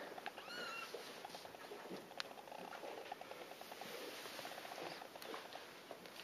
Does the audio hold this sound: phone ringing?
no